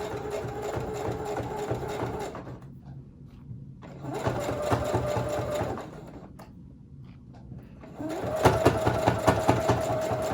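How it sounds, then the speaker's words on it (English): A sewing machine stitches over a pleat in a fabric face mask, running in three steady whirring bursts separated by short pauses, close and fairly loud with no talking. "And sew over it to secure."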